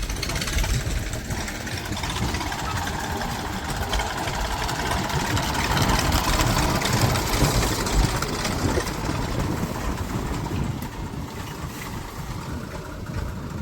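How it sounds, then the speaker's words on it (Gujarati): A tractor engine idles as the tractor pulls into a farm, giving a steady, fairly close rumble that swells slightly midway and then settles, with no voices over it. "જો આપણે આવી ગયું ટ્રેક્ટર હવે અંદર."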